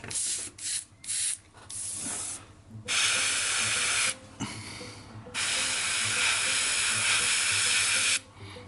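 An airbrush spraying paint onto a Kingdom Death miniature, close steady hissing bursts of varying length, short puffs at first and then long sustained sprays separated by brief pauses, with no talking.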